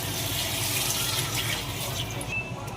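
Water pouring steadily into a cooking pot for a fish soup with lemongrass, a continuous splashing gush that is close and even, with no voices.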